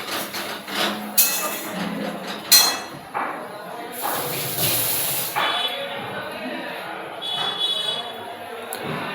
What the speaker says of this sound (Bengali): লঙ্কাগুলো আছে আমি দিয়ে দেবো তেলের মধ্যে